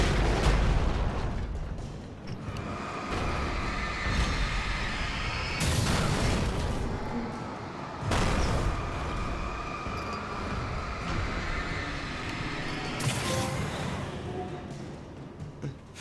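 Flashbang grenades going off in Alan Wake Remastered, several sharp bright blasts spaced a few seconds apart over a rumbling game soundscape with low hiss.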